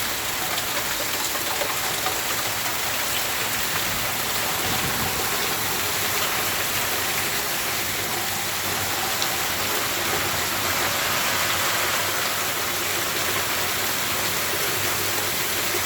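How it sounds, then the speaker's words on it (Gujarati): A downpour drums steadily on a village street in a thunderstorm with hail and gusting wind, a thick, unbroken wash of rain and runoff at an even level, with no speech over it. "વરસાદ બહાટી બોલાવી રહ્યો છે।"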